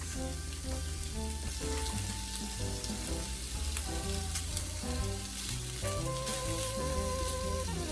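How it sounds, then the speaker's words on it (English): Ground beef fries in a pan for bolognese, a steady close sizzle running throughout with scattered scraping and tapping as a spatula breaks up the meat, no voices. "Break up the meat. I like to just hit it with a spatula."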